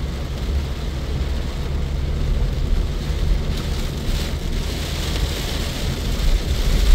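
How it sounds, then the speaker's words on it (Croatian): A heavy rain downpour on a road near the border of Brinje and Otočac roars in a steady, dense wash of broadband noise without a break. "Pada kiša, sve u 16."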